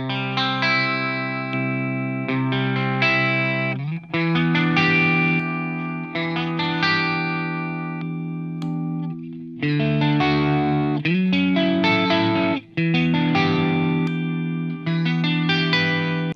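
An electric guitar fitted with Quimera System pickups, set to bank B, plays sustained chords through chorus and distortion effects with some echo, loud and close with a few brief pauses between phrases.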